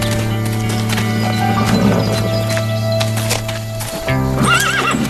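A horse whinnies loudly and close by while its hooves clip-clop in a steady rhythm, with a low steady hum running beneath, on a ranch during an inspection of the animal.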